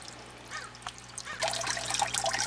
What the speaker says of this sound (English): now the water's starting to come over the standpipe